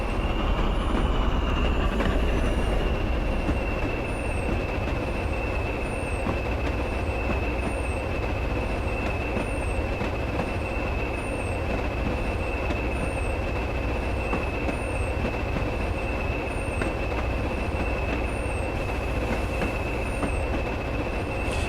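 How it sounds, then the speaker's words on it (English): A heavy coal train in Train Simulator rolls steadily downhill on the Weardale and Teesdale line behind a Class 20, with continuous rumbling wheels, a sustained squealing tone and rhythmic ticking clicks, no talk. "a heavy coal train going downhill"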